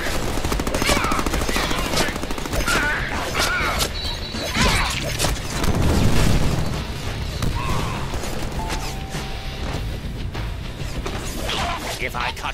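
Gunfire in the Deadpool video game, a dense run of rapid shots and impacts with crashing hits throughout, loud and close, with a voice talking over parts of it.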